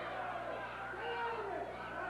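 A wrestling crowd in an arena shouts and jeers at a cautious Alan Reynolds, a continuous mass of raised voices rising and falling.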